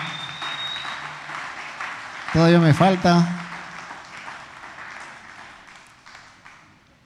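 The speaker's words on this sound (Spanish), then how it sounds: "Den un fuerte aplauso a Dios" A church congregation applauds in steady background clapping, while someone speaks briefly and loudly in the middle before the clapping fades out.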